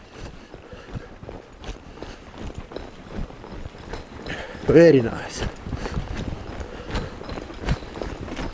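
Hooves of a ridden horse thud in a steady rhythm on an arena surface, moderately close, while a person speaks over them.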